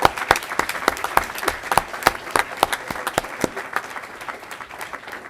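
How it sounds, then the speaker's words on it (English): An audience at a school board meeting claps for students, with distinct individual hand claps standing out over a dense crowd of clapping that thins and fades toward the end. "Can you clap for them?"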